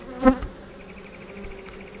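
Honey bees buzz at the hive entrance with fanning workers, one nearby bee passing loudly in a brief swell over a steady faint hum of the colony.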